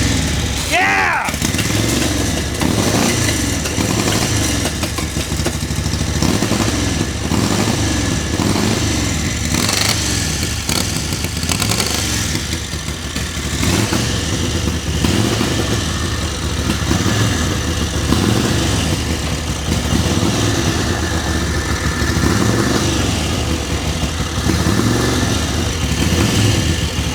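A Harley-Davidson WR racing motorcycle engine fires up and settles into a loud, steady, close-up idle with a lumpy, continuous rumble that lasts throughout.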